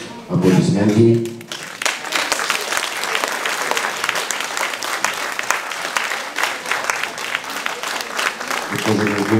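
Audience applause at an anniversary award ceremony for a laboratory, steady clapping from a crowd lasting several seconds after a brief opening voice, dense and moderately loud throughout.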